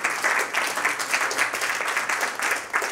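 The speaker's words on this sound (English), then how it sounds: "Give the Lord a hand clap of praise." A church congregation claps hands in praise: many people clapping in a lively, fairly even pulse that swells and dips, close and loud, with a faint voice now and then.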